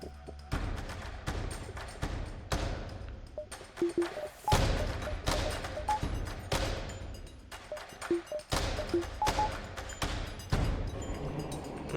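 Repeated sharp shots and thumping impacts from ship weapons and flak firing in the space game FTL Multiverse, arriving in irregular bursts with short gaps, fairly loud and close over a low hum.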